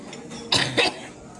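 Two quick, close coughs in a row, loud and dry, with a quiet background before and after.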